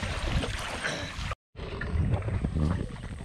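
Choppy lagoon water slaps and splashes against a rocking wooden canoe while strong wind roars past during a crab hunt, loud and close, with a brief silent break midway.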